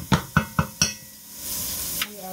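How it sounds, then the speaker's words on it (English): Food sautéing in a pot over lowered heat: four sharp clinks of a utensil against the pot, then a soft, steady sizzle close by. "Now that is sauteing"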